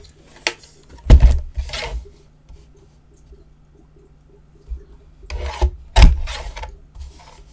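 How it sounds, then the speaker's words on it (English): Scrapbook paper being trimmed on a paper trimmer for a holiday mini album: a few short rasping slides of the blade, close and fairly quiet, with soft handling clicks and a pause in the middle. "Maybe I could trim that down a little bit."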